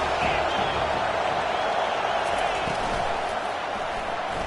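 A football stadium crowd makes a dense, steady roar and murmur that holds at an even level throughout, with no distinct cheers standing out.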